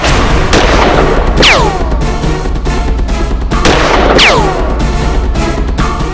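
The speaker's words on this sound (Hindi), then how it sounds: "इन्होंने सर्वप्रथम बंसल जी पर गोली चलाई" Two loud gunshots ring out a couple of seconds apart, each a sharp crack with a descending ringing tail, over dense background noise.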